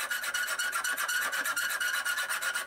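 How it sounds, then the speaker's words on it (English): A hand hacksaw cuts a notch into steel bar stock, giving a rapid, even rasping stroke repeated back and forth, close and loud with no talk. "I'm just going to use a hacksaw and cut the notch by hand"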